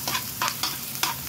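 Milkfish frying with garlic in a pan gives a soft sizzle, broken by four quick scraping strokes of a utensil stirring at a steady rhythm.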